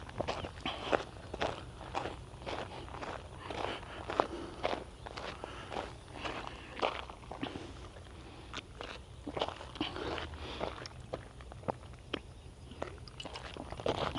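Footsteps walk at an unhurried pace outdoors in Goondi, Innisfail, Australia, with a steady, soft crunching rhythm that continues throughout and has no talking over it.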